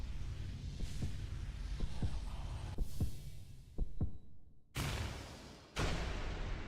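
A bug's heartbeat in the video game Hollow Knight throbs loudly as a series of deep, regular thumps over a dense low rumble, with a few sharper crashes breaking in.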